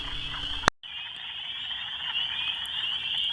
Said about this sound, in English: the frogs here are crazy loud again